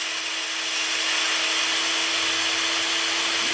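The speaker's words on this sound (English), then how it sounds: "Come on, reverse drill bit. Catch." A power drill runs continuously with a steady high whine, driving a reverse drill bit to extract a broken stud from an AMG V8 engine during a header installation.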